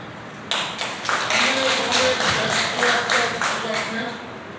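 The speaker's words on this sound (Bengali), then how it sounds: "আমরা একটু সারকে একটু তালি দিই" A group claps for a speaker at a training session for women returning from work abroad and women entrepreneurs, a steady patter of many hands lasting several seconds.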